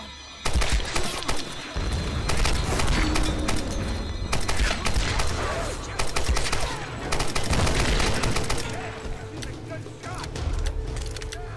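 Enemy gunfire in the Tomb Raider video game, dense loud volleys of shots and mechanical clatter running almost continuously.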